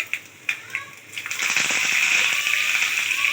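Tempering spices hit hot oil for pachipulusu, a few sharp pops giving way to a steady, loud sizzle and crackle that fills the rest of the moment.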